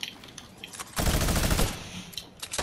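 Rapid automatic gunfire from a shooter video game, a loud sustained burst in the middle framed by scattered single shots, close and dense with no voices.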